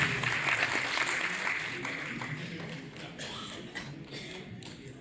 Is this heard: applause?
yes